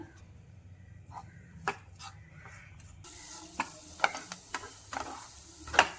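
A spoon stirs curry in a pan after pepper powder, garam masala, curry leaves and coriander leaves are added. Soft scraping and sizzling run under sharp clinks of the spoon against the pan.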